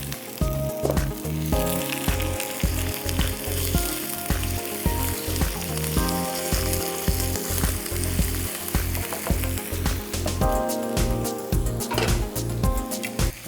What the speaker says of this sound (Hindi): तो सौटे करिए, जिसमें चिकन शामिल कर दीजिए,